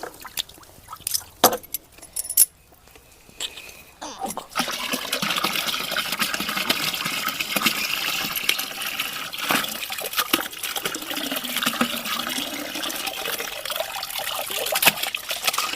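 Water sloshing and trickling in a tank holding 100 litres as pesticide is stirred in at home, a steady close churning wash after a few scattered knocks and splashes at the start.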